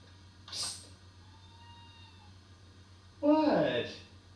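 A cat meows twice, a short faint cry near the start and a louder, longer wavering meow near the end, with quiet pauses between.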